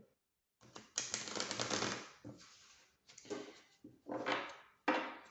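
Tarot cards being shuffled by hand, a series of dense papery riffling bursts with short pauses between them, close and fairly loud.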